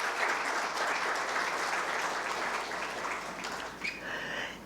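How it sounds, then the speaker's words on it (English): Sustained audience applause for dignitaries fills an auditorium at an India Mediation Day inaugural event, dense and steady throughout with a brief faint whistle-like tone near the end. "Give a big round of applause to all our dignitaries over here."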